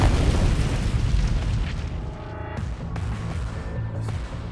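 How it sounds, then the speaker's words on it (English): A car bomb explodes: a deep, heavy blast rumbles at the start, then a roaring, crackling aftermath with scattered debris and pops trailing off; loud and close, no voices. "the car is blown to pieces by a car bomb."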